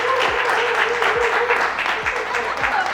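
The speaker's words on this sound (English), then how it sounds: "Give a warm round of applause to" Audience applause greets a guest on a live talk show in New York City, a continuous wash of clapping with thumping low beats and a voice mixed in underneath.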